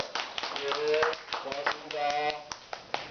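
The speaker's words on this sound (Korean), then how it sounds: "박수 좀 쳐주세요" A small group of people at a Korean self-help meeting for people living with mental illness clap briefly in uneven bursts of hand claps, with a voice speaking over them.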